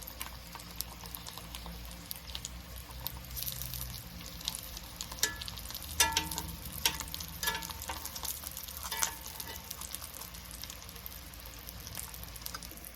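Sausages fry in a pan for a one-pot full English breakfast, giving a steady close sizzle and crackle with occasional louder pops and stirring clatter, no voices.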